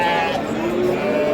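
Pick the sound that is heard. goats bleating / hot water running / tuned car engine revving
goats bleating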